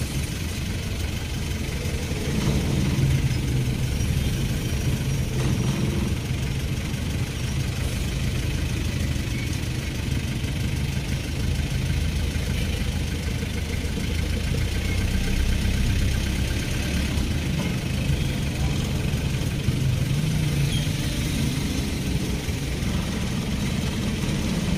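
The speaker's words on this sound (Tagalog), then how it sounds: "Kasagsagan na nata-traffic." Steady hum of idling and passing car and motorcycle engines filling a busy, traffic-jammed town centre in Iriga, a continuous mid-level drone with no one speaking.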